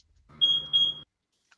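Two short, shrill electronic beeps in quick succession, close and clear over a low hum, then silence.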